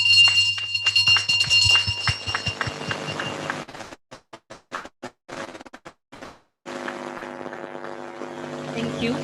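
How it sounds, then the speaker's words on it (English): A ceremonial exchange bell rings in rapid, continuous strikes, breaking into irregular clangs and pauses, then a sustained ringing tone resumes. "Proceed to ring the bell."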